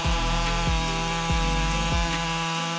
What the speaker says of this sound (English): In the field of logging, the Husqvarna 562 MEC 218 chainsaw is considered a powerful machine.